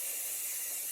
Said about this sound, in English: I'm just going to use like a light hold wax spray